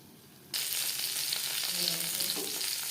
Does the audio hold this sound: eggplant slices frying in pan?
yes